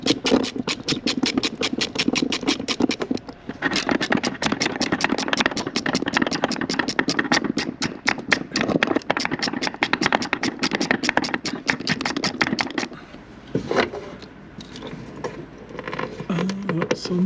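A car engine, just fitted with a new pump and idle control valve, cranks over in a fast rattling chatter, catches, and runs a rough, loud idle close by before dropping briefly and picking up again.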